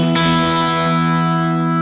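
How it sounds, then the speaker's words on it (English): A loud, heavily distorted electric guitar chord through a Westminster Effects Zwingli SDD-3k pedal rings out, sustaining with a gritty, buzzing edge and slowly fading. "I'm getting all this distortion kicking in all of a sudden."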